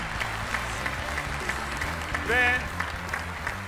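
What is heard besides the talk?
audience applause for O Ses Türkiye finalist Devrim Seyrek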